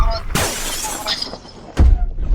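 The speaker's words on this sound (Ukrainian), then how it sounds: "А, знаєш, що вікно тріснуло?" Window glass cracks in a Roblox game with a sharp shattering burst, a loud broadband crash, then a second heavy hit near the end, with speech-like sounds mixed in.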